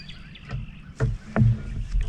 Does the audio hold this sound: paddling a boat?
yes